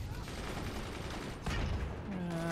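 Gunfire from the artillery-fort battle game Forts during a 4v4 multiplayer match on the Wheels and Bearings map, a dense continuous rattle of shots with a heavier burst midway and a rising tonal whine near the end.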